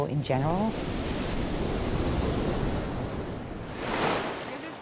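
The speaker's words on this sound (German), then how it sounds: "Das sind schwierige Wellen." Ocean surf breaks and washes in a continuous roar, close and loud, with wind buffeting the microphone and a voice heard briefly at the start.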